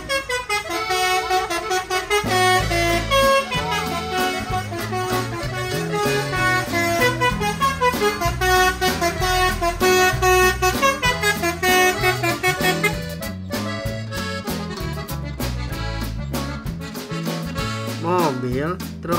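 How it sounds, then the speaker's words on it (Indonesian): A toy bus plays a loud, melodic telolet horn tune with repeated musical toots and honks, continuing for most of the stretch with brief pauses near the end. "Mobil bus basuri telolet."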